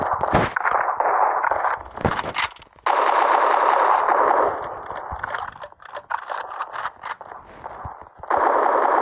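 Gunfire in the Roblox Prison Life game, loud rapid bursts of automatic shots with short gaps, close and alone with no talk.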